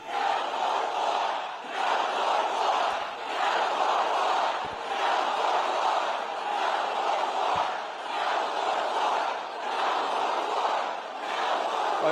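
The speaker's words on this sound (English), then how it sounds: "Listen to all those snowflakes booing, hey?" A large crowd booing in long swelling waves, loud and sustained, each jeer rising and fading in a steady rhythm with no pause between them.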